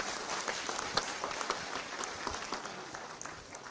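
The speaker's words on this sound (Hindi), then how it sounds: "तालियां बजाकर स्वागत करें।" Audience applause at a GI certificate distribution ceremony in Dehradun, a soft, steady patter of many hands clapping at a distance, continuous throughout with faint crowd murmur.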